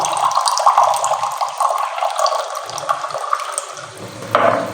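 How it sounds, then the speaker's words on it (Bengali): Water splashes steadily into milk tea being made at home, a close, continuous pouring and running sound that lasts throughout and swells briefly near the end. "বেশি দুধ দিলাম এখন একটু জল দেবো"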